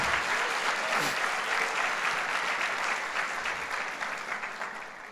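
Sunday church service congregation applauding, a dense, even wash of many hands clapping at moderate level, holding steady before easing off toward the end.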